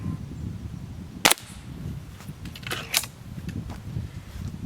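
A single sharp crack of a Beeman Grizzly X2 .22 air rifle shot, followed about a second and a half later by a fainter second pop of pellet impact over steady background rumble.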